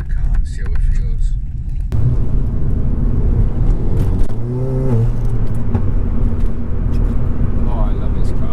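A Ford Fiesta ST 180 hatchback pulls away and drives, its engine rumbling steadily from inside the cabin, with a brief rising rev midway as someone talks over it.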